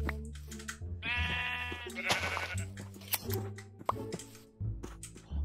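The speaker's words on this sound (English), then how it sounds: "Oh, I found sheep." Sheep in the Minecraft video game bleat several times in short, wavering calls, mixed with small popping game effects and a person talking over them.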